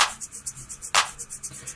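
Deep house drum loop alongside a clap: crisp, regular ticking hi-hat or shaker hits with a single sharp clap in the middle, light and steady.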